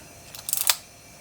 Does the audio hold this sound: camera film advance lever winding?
yes